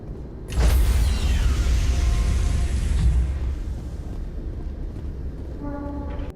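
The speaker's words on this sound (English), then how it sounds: "Decontamination in progress." A loud mechanical rush and hiss bursts in, sustained with rumbling, then fades to a steady hum with faint tonal beeps near the end; a ship decontamination cycle in Mass Effect; no talking.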